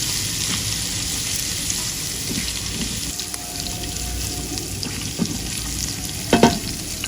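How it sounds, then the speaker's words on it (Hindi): Ginger garlic paste and whole garam masala frying in ghee while being stirred: a steady, close sizzle with scraping stir strokes and a few louder clinks near the end, no talking. "साबित गरम मसाला और अदरक लहसुन के पेस्ट को अच्छी तरह से भून लेंगे"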